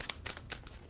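A tarot card deck is shuffled quietly and briefly in a soft, papery riffle of a few quick flicks, with no voices.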